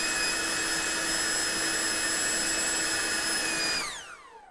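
An Ingco 20V cordless blower with a brushless motor and variable speed trigger, a loud close high-pitched whine held steady for several seconds before it winds down as the motor spins to a stop.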